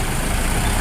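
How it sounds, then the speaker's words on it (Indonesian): A big truck idles at the roadside beside a street-food stall, a loud, steady low engine drone filling the whole brief moment with no talk over it. "di pinggir jalan tuh ada truk gede banget"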